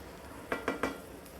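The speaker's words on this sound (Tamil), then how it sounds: "சிக்கன் வந்து நல்லா குக் ஆகிறதுக்காக 1 time மிக்ஸ் பண்ணி விட்டுட்டு" Garlic chicken in a pan, stirred with a utensil: three quick scraping strokes in steady rhythm, close and distinct, over a faint background hiss.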